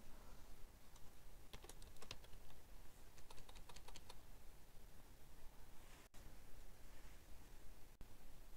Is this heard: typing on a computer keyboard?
yes